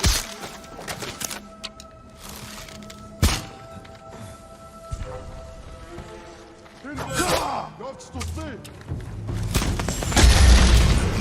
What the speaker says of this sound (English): The ghosts found powder to destroy the gate.